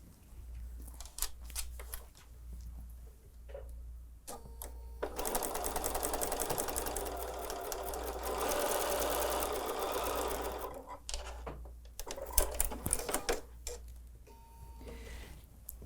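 Sewing machine stitching quilt block fabric, a close rapid mechanical chatter that runs in bursts, with one long steady run in the middle and shorter starts and stops around it.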